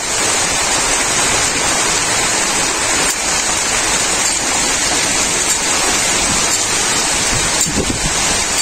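Water pours into a pan of chicken curry to make the gravy, a loud, steady rushing splash that runs without pause from start to finish.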